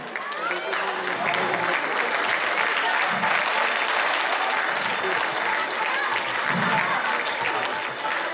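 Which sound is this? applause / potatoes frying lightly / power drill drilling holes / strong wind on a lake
applause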